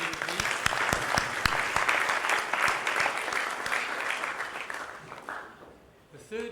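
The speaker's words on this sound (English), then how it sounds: "A round of applause for him" A room full of people gives a warm round of clapping at the GDT Awards 2014 ceremony, loud and sustained before tapering off, then a voice briefly starts at the very end.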